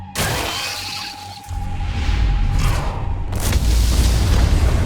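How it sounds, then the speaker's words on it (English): Deep rumbling booms and crackling blasts go off in the ant tunnels of the Solo Leveling: ARISE Jeju Island raid, a loud explosion opening and a heavy roar building and swelling twice more. "Looks like fireworks are going off in the ant tunnels."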